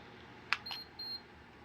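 A Lasko tower heater answers its remote with a sharp click followed by two short high electronic beeps, quiet and close in an otherwise still room.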